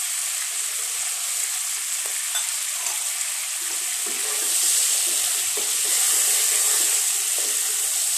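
Chopped onions hitting hot oil in a pan while cooking prawn pulao, giving a steady, close sizzle that swells louder about halfway through.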